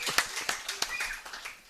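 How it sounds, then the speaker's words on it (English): Sparse clapping from a small audience aboard a cruise ship, only a handful of people, uneven and brief claps fading out over under two seconds, fairly quiet. "Look only about 4 of them are clapping."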